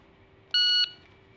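A shooting timer gives a single short electronic beep for a 10-round skill check drill, clear and alone against a quiet background.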